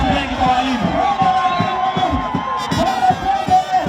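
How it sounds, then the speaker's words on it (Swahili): Crowd at a May Day rally cheering and shouting for teachers, a dense, loud mass of voices with rhythmic chanting pulses and a few raised whoops throughout. "Makofi mengi kwa walimu"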